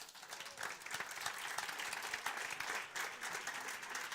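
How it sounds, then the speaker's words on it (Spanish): An audience applauds at the end of a talk at the CES_UAI 2018 business congress, producing a steady, dense wash of many hands clapping at moderate distance with no voices over it. "Un aplauso más fuerte para Emilio Sierpe"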